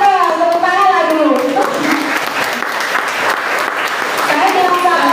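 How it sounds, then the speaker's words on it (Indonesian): Children in a classroom audience break into applause, a steady wash of clapping hands that fills the whole stretch at a fairly loud level, with an adult voice talking over the start and end of it. "tepuk tangan lah dulu"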